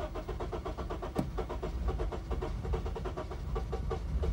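A Honda engine soaked in carb cleaner after a throttle body cleaning cranks steadily in a fast, rhythmic chug, sputtering and misfiring as it tries to catch, loud and close with no talking.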